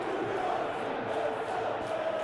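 Steady crowd roar from the stands in the football video game Football Life 2026, during a Master League match involving Benfica, a dense, continuous wash of massed voices with no break.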